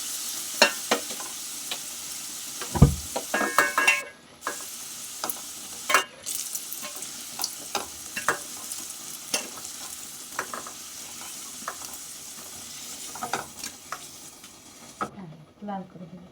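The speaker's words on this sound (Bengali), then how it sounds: "লাল করে ভেজে দিয়েছি।" Potato pieces stir-fried in oil until reddish-brown, a continuous sizzle broken by repeated scraping and knocking of a spatula against the pan, with a louder clatter early on and no talking.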